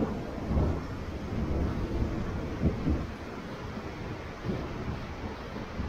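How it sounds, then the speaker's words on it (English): Low, rumbling thunder rolls in the distance beneath a steady wash of rain and wind, with a couple of deeper swells. "You can count the seconds between when you see the lightning and when you hear the thunder"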